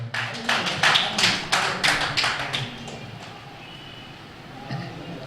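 A short burst of hand clapping, sharp rhythmic claps for about three seconds that then die away into quiet room noise.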